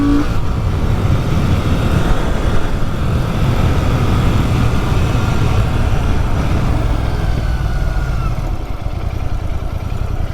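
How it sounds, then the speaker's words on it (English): A motorcycle engine revving hard up to its rev limiter, loud and sustained with rising pitch, then easing off near the end, wind noise mixed in. "Kind of learning where the rev limiter is on this bike still, so here we go."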